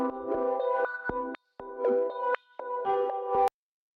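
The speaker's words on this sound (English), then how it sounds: "I took this Rhodes, and I found this cool preset and effects modulator called Gritty Acid." A resampled Rhodes electric piano loop run through a Gritty Acid effects modulator: chopped, gritty chord stabs in choppy bursts with abrupt cut-offs and short gaps, loud and close, no voices.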